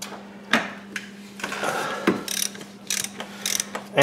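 A plastic oil filter housing on a Mercedes-Benz GLA is being tightened during an oil change, giving close, repeated ratcheting clicks and plastic creaks in short bursts with brief pauses.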